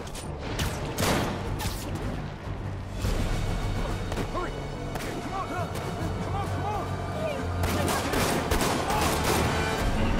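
Sustained gunfire strikes a police vehicle in Marvel's Spider-Man, with rapid bursts and impacts running continuously under music and radio chatter.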